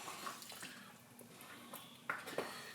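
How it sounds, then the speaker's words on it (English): Water trickles and splashes into a pot of Nigerian red stew, with a few drips and small clinks of cookware over quiet kitchen background. "add a little water"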